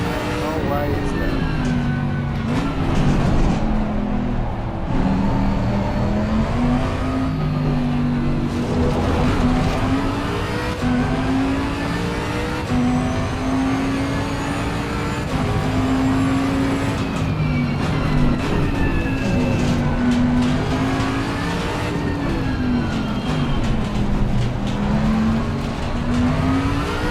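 Race car engine in Assetto Corsa Competizione revving hard and bouncing off the RPM limiter, a loud continuous wavering whine with rising and falling pitch, under a speaking voice.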